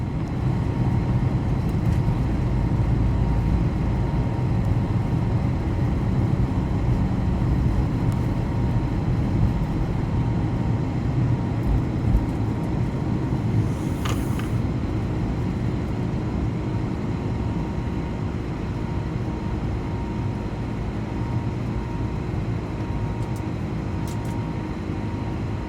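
Steady, dense engine roar heard from inside the cabin of an Air Canada A220-300 as its Pratt & Whitney geared turbofan engines push through takeoff, a constant low rumble with a faint whine that holds without letup.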